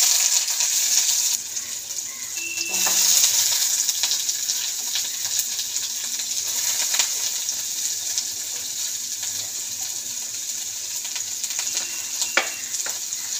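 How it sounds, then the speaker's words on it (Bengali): Onion fried in hot oil in a kadai gives a loud, steady sizzle and crackle close by, with occasional stirring clinks and scrapes and no talk. "কড়াটা বসিয়ে দিয়েছি, এবার তেলটা দিয়েছি। তো পেঁয়াজটা দিয়ে দিই।"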